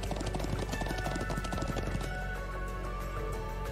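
Foal hooves clip-clopping at a steady trot with a neigh, from the Trails of Cold Steel 2 video game, heard over a continuous music bed at moderate level.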